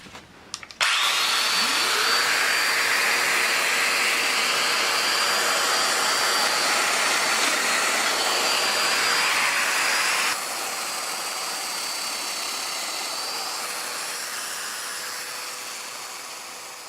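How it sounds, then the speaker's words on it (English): A domino joiner plunging a mortise into the side of a wooden inset piece for a tapered porch column: a loud, steady high-pitched motor whine up close, dropping slightly in level partway through and slowly tapering off. "Then I'll use the tool to cut a mortise into the side of the inset piece"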